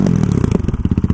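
A Honda CRF450RL dirt bike running through a no-name aftermarket exhaust with a Chinese header, giving a loud, close, rapid popping burble with rhythmic pulses alone.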